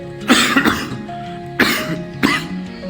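A person coughs close up after a vaccination, three harsh separate bursts, the first a double cough, with pauses in between.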